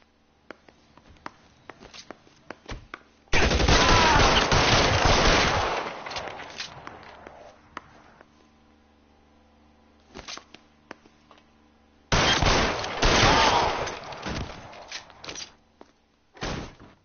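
Heavy gunfire in an L.A. Noire police shootout arrives in two loud rapid bursts separated by quieter stretches of sharp isolated shots and clicks, the first burst longer and fading gradually.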